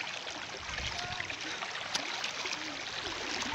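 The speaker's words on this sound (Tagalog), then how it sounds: "Unang ilog po yan na delikado po na dinadaanan namin" A river flowing steadily, a dangerous crossing that people traverse daily, with a constant broadband rush of water and faint trickling close by, no voices.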